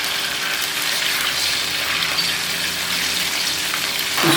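Ground ginger paste and white cumin frying in hot oil give a loud, steady hiss and sizzle throughout, with a brief surge of sputtering at the very end.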